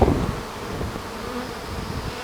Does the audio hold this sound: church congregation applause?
no